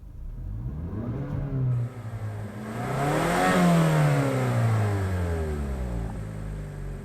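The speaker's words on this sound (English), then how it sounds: "there's plenty of feedback from this car, and that includes the exhaust note" A 2017 Mazda CX-5 engine and exhaust heard while the car accelerates through the gears, the rising drone dropping at a shift and then climbing again to a louder, nearby peak before easing off.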